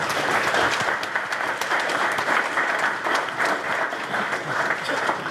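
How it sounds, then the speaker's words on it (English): Steady, dense applause from the room at a sailing league's opening press conference, honouring ten athletes; close and continuous without a break. "A round of applause, please, for the 10 athletes."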